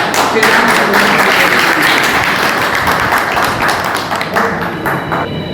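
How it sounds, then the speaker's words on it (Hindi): Loud, dense audience applause at a community gathering in Bikaner, sustained thunderous clapping throughout with some voices mixed in. "आपकी तालियों की गड़गड़ाहट के साथ"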